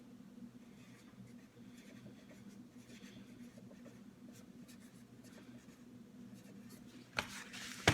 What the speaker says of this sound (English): Put that here on your staff lined paper. You can write a title.